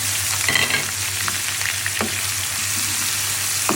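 Onion sizzles steadily in a pan with cumin, a continuous close frying hiss with occasional stirring scrapes and small pops.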